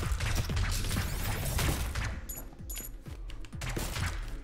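Rapid bursts of gunfire in the video game Neon Abyss crackle and rattle over busy game sounds, fairly faint, with a couple of short electronic beeps midway.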